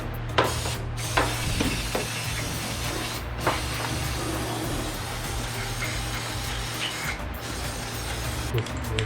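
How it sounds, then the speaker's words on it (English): Brake cleaner sprayed onto engine parts of a 2006 Hyundai Tiburon GT during a timing belt job, a steady close aerosol hiss over a low mechanical hum, broken by short pauses. "This is Alejandro's brake cleaner."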